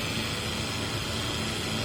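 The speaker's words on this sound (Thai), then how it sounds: "มอเตอร์ก็ยังทำงานปกตินะครับ" A BLDC motor drives a solar-powered paddle-wheel aerator on a pond, giving a steady, broadband rushing hum mixed with churning water, constant in level with no breaks or changes.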